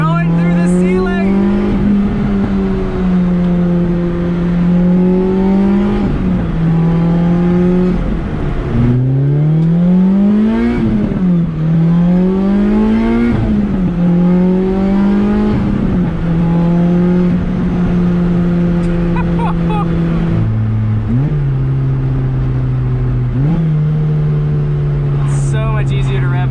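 A Lotus Exige with an Inokinetic/Sector111 exhaust and upgraded motor mounts revs repeatedly, its loud close engine note climbing and dropping through a series of sharp throttle blips and sustained rises.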